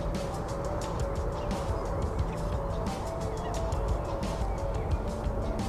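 A flock of birds, geese or similar fowl, honks and calls continuously at Gailey Reservoir in spring, with dense overlapping cries forming a steady, fairly close outdoor chorus.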